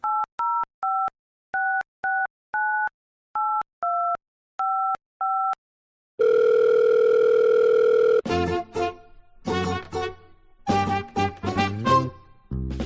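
A telephone plays a quick run of touch-tone dialing beeps, then a steady two-second dial tone, followed by a voice and music.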